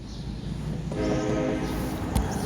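A train passes in the Blue Archive video game, a steady rumbling rush with a sustained horn-like tonal blare in the middle, loud and continuous under the game's background sound.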